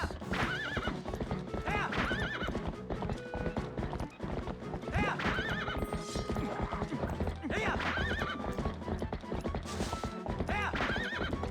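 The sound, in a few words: horse neighing and hooves, from a video game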